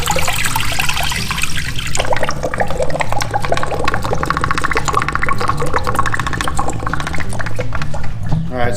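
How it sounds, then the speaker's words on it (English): A urinal with a drain stoppage is flushed in a bar restroom, water rushing and gurgling steadily and loudly up close for several seconds, with a voice speaking over the flow. "we're gonna flush this"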